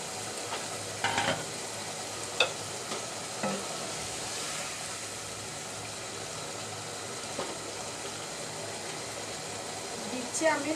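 Beef tehari spices and meat cook in hot oil with a steady, close sizzle throughout, broken by occasional scrapes and clinks of a stirring spoon, while a voice is faintly present.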